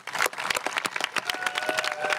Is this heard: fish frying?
no